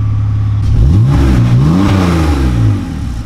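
A BMW compact engine fitted with a homemade exhaust revs up loudly and close by, its pitch sweeping up and down over about three seconds before settling back, with no talking.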